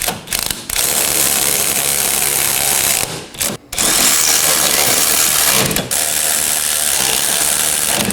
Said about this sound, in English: Now I'm going to go ahead and snug these up.